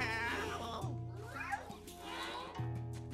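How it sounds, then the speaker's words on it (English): A cat in the video game Luigi's Mansion meows repeatedly in drawn-out, wavering cries, heard faintly and close alongside the game's steady background music. "Come here, cat. You are very annoying."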